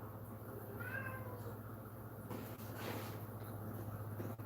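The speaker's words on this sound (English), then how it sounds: "You crazy kitty, you." A cat gives a short meow near the start, fairly faint over a low steady hum in a quiet indoor room.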